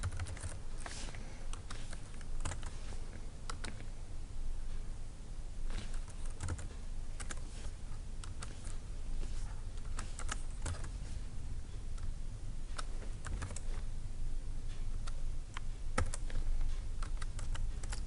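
Steady, continuous typing on a computer keyboard, with rapid clicking keystrokes throughout and no talking.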